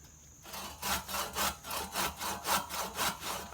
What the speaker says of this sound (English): you can see this saw does pretty good on that sweet gum